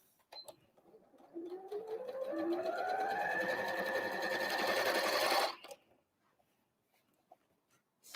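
Sewing machine stitching a Christmas tree napkin, one sustained close run of rapid stitching that rises in pitch as it speeds up, then stops abruptly, with faint clicks in the quiet afterward.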